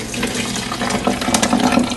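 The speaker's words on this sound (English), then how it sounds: "So just half a cup of peroxide and we're going to pour that into our container" Hydrogen peroxide, half a cup, pours into a container for an elephant toothpaste mixture, giving a steady, close splashing liquid stream without any talking.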